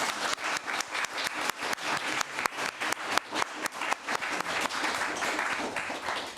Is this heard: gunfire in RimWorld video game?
no